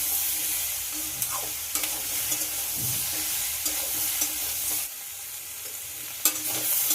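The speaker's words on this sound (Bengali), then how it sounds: "বেশ কিছুক্ষণ ভাজার পর এতে একটা বড় সাইজের টমেটো কুচি দিয়ে দেব, আর দিয়ে দেব একটা কাঁচা লঙ্কা।" Pumpkin frying in a pan with chopped tomato and green chili, a steady sizzle with repeated stirring scrapes and occasional utensil knocks, close and alone with no talk.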